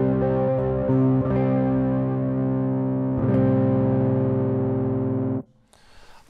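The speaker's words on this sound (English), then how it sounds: "There's some distortion in there as well." Distorted electric guitar through a Neural DSP Quad Cortex, sustaining thick, buzzing chords that ring out loud for about five seconds, then cut off abruptly into near silence.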